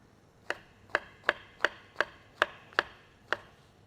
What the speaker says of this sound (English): we'll be slicing it super thin